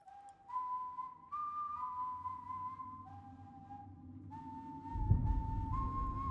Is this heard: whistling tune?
yes